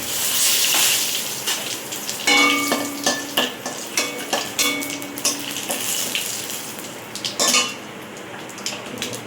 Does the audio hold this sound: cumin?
yes